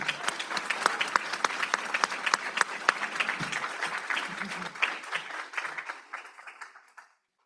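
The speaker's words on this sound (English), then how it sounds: "So a round of applause to Melissa Sini." An audience at a school district board meeting claps in a sustained round of applause, a dense patter of many hands that thins out and stops abruptly near the end.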